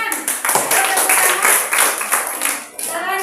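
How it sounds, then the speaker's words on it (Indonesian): A classroom of children claps together, a quick run of uneven hand claps over about three seconds, close and lively, with some young voices mixed in. "Oke, tepuk tangan."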